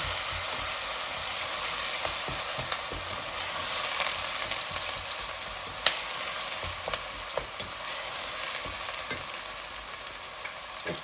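Grated onion frying in a pan for a chicken leg and niblet bhuna, a steady close sizzle with occasional stirring clicks and scrapes, no talking.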